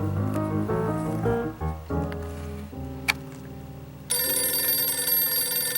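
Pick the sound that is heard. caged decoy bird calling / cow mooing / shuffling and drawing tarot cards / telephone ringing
telephone ringing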